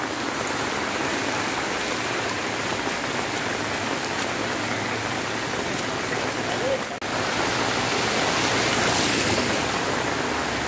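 Heavy monsoon rain pours steadily over a flooded market street, a dense unbroken hiss of rain and running water lasting about ten seconds, loud and close, with no talk.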